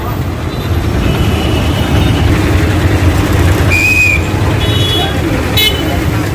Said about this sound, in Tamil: இதுதான் வந்து திருவனந்தபுரம் ரயில்வே ஸ்டேஷன்.